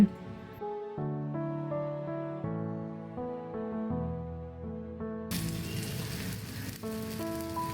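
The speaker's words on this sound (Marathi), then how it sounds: "तर तवा तापलाय, तर थोडं तेल घालतीये।" Oil poured onto a hot griddle (tava) for a bajra pancake gives a loud, broad sizzle near the end, after several seconds of melodic music.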